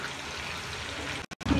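Cooking oil is poured into a hot cooking pot, a short trickling pour heard close by. Two brief gaps of silence follow, then a louder burst of noise.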